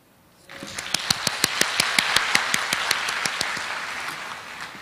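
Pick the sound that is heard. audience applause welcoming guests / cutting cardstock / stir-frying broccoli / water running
audience applause welcoming guests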